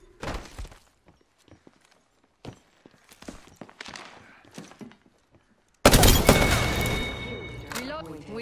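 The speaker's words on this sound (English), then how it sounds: "They're shooting at me!" Gunfire rattles in an Apex Legends match on PS4, scattered sharp shots early followed by a loud, sustained burst of automatic fire near the end, with a voice speaking between shots.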